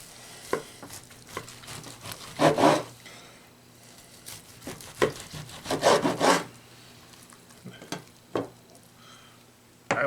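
A knife saws through a dry-brined roast turkey rubbed with poultry seasoning, cutting from the middle in a few rasping, crackly strokes with gaps between them, close up and with no talking.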